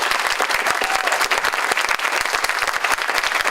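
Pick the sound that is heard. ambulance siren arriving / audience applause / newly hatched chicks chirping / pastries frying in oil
audience applause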